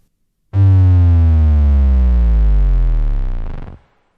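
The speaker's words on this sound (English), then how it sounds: "There's reverb on that sub drop." A deep, booming synthetic sub drop in a rock production sweeps steadily downward in pitch for about three seconds, then cuts off into a short reverberant tail.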